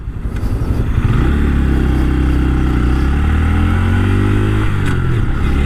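Loud engine drone and wind rush on a 2024 Honda Grom motorcycle in traffic, the engine pitch rising and holding as it accelerates, with passing road noise close around the rider.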